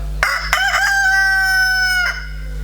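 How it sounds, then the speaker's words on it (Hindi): A single long rooster crow rings out loudly during a nautanki folk theatre performance. It rises sharply and holds steady over a constant low electrical hum. "कहाँ रहा मुर्गा बोलेला का?"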